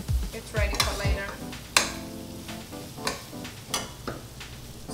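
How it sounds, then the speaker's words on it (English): Raisins being stirred in a hot pan, with a spoon scraping and clinking against the metal in uneven strokes over a soft sizzle, the first second busiest and the rest sparser. "Stir a little bit and then turn it off and let it cool down."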